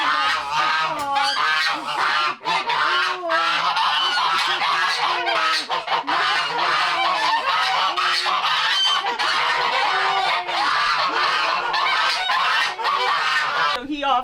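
A Sebastopol goose named Sebastian honks continuously and loudly up close, a dense run of nasal, wavering calls with barely any pause.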